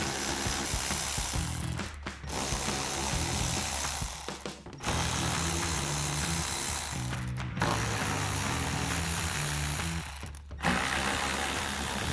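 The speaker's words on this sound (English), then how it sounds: "Just grab a 7 millimeter socket to pull them out." A hand ratchet with a 7 mm socket removes screws from the rear bumper of a 2024-2026 Ford Mustang, giving fast repeated clicking runs broken by short pauses, loud and close, with no voices.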